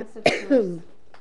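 A single short cough, close and sharp, followed by a brief voiced throat sound, then quiet.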